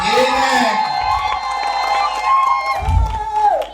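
A crowd at a church gathering cheers and shouts loudly, with whoops and raised voices swelling and falling, a brief lull, then another burst.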